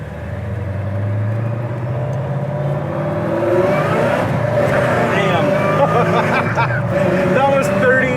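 A supercharged 1969 Chevy Nova with dual exhaust revs and pulls away, the engine rumble growing louder and rising in pitch, with supercharger whine layered on top.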